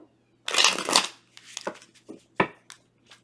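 Tarot cards shuffled by hand, a dense riffling burst followed by several shorter flicks and taps, close and alone without talk.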